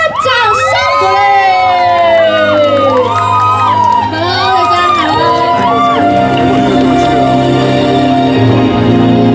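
A large outdoor rock concert crowd at Zhuwei fishing harbour in Taoyuan cheers and whoops loudly for a singer, with dense shouting and high excited voices filling the whole stretch without pause.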